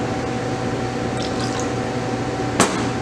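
Water being poured from a cup into a braising pan holding meat, a steady liquid trickle and splash running throughout with a faint hum beneath and one sharp clink near the end.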